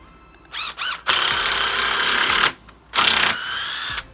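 Hitachi 18V cordless drill driving into solid wood, with short whirring bursts followed by a long loud hammering run and a final burst, heard alone up close.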